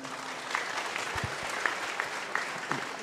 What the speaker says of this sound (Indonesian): sekali lagi tepuk tangan dong untuk Mas Abrang.